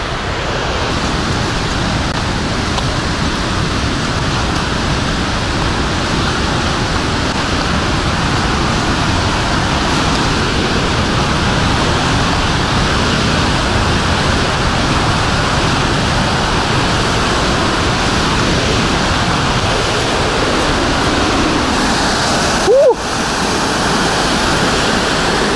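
A waterfall in the Altai mountains roars as a loud, constant, full rush of falling water, unbroken for the whole stretch apart from one brief knock near the end.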